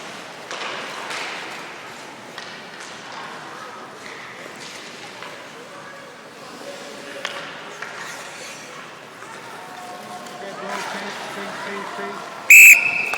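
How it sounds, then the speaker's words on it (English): Referee whistle at a novice youth hockey shinny game, a sharp loud blast near the end after a stretch of rink noise, skate sounds and chatter. "Whistle's gonna blow soon. Gonna blow the whistle."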